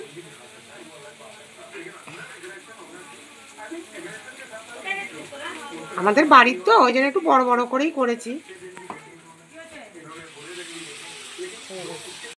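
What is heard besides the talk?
soya cutlets dipped in egg frying in a kadai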